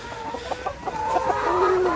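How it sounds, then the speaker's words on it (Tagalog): Hungry free-range chickens on a farm cluck repeatedly and closely, a busy flock of short, overlapping calls that builds into a continuous chorus. "Gutom na gutom ang ating mga manok."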